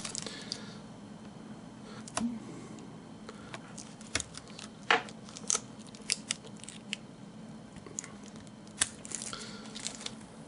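Small snips and clicks of a blade cutting a piece off green stuff epoxy putty, faint and close, scattered sharp ticks over quiet background.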